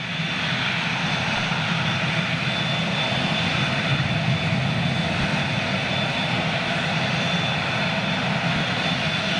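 A KLM jet airliner taxis and turns on the apron, its engines a steady, broad whine and rumble held at constant level throughout, fairly close, with no voices.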